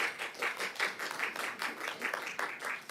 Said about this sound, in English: while I appreciate the round of applause, it does feel a little bit like common sense